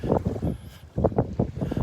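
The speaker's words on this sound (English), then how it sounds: "A little windy," Morning wind on the beach at Delnor-Wiggins buffets the microphone in close, low, uneven gusts that thump and rumble in short bursts with a brief lull midway.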